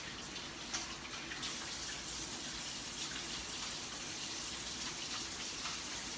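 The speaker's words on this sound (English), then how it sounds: "Wash my hands really thoroughly." Tap water gushes steadily during thorough hand washing in a kitchen, a loud, continuous close rush of running water with no voices.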